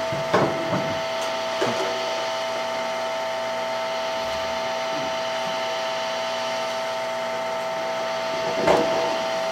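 A wood lathe hums steadily while a turned wooden piece is power sanded, giving a continuous motor drone with a few brief scratchy sandpaper contacts near the start and end.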